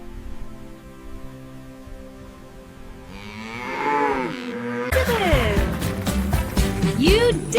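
A zebu, a humped breed of cattle, lets out a mooing call, with the lowing rising in strength over several seconds and holding loud and close near the end of the stretch.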